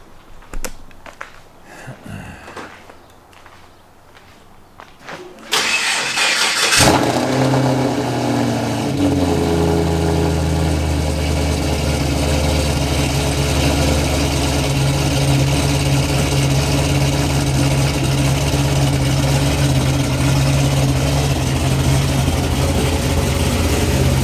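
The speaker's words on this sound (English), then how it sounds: "So I'll get a little cold start for y'all." Cold start of an LSA-powered Pontiac G8: after quiet handling noises, the engine cranks and catches with a loud flare around five seconds in, then settles into a steady, deep, rumbling idle close by for the rest of the clip.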